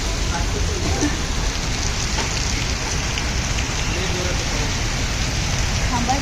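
Steady, heavy rain hisses and patters on a surface, a dense unbroken wash of sound throughout.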